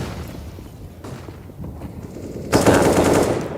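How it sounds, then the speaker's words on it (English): Counter-Strike gunfire rattles in bursts during a professional esports match, the shots faint and intermittent at first, then a loud sustained volley in the final second. "Oh, bullets whiz past his ear."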